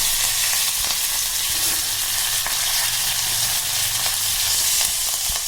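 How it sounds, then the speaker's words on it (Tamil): Mustard seeds splutter and pop in hot oil for a red capsicum and peanut chutney tempering, a dense continuous sizzle with fine crackles, close and loud throughout. "கடுகு பொரியுதுங்க."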